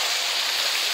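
Rain at an outdoor street food market in Manchester makes a steady, dense hiss that stays constant and fairly loud throughout, with no voices.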